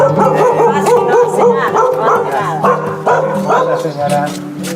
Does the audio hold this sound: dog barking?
yes